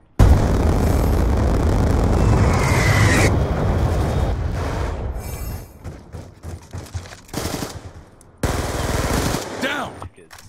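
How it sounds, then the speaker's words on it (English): A Hellstorm missile strike in Call of Duty: Black Ops 2 league play, with a loud, sustained roar of blasts and rapid gunfire. It cuts off suddenly, then gives way to scattered bursts and a final loud surge. "Hellstorm missile away."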